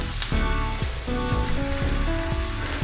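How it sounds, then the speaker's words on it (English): Peppers and onions sizzle loudly in hot oil in a pan, a dense, close, steady frying crackle with occasional spatula scrapes and stirring knocks, no talking. "Once the oil is nice and hot, throw in your peppers and onions."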